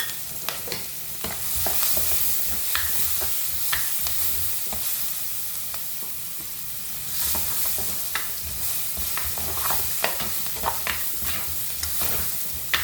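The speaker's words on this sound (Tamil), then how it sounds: "வெங்காயம் வந்து ஓரளவாக வதங்கிட்டுது" Steady sizzling of onions sautéing in a pan for egg curry, with occasional scraping and stirring clicks throughout, close and moderately loud, no voices.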